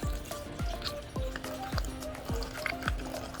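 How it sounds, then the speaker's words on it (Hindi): Cold water is poured into a glass of lemon juice drink in a continuous liquid trickle with repeated gurgling drips, fairly quiet and close. "ये देखें, अब ये ठंडा पानी डालना है"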